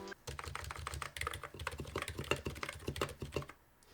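Fast typing on a full-size custom electro-capacitive keyboard set at a flat angle, a quick, close run of crisp, muted keystrokes that stops abruptly near the end, with no talking.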